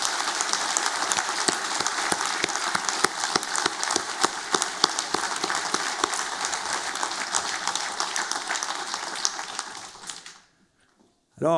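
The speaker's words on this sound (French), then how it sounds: "je vous propose de les applaudir chaleureusement" A large audience applauds warmly at a municipal New Year's wishes ceremony in Lagny, a dense, steady wave of clapping lasting about ten seconds before cutting off abruptly into silence.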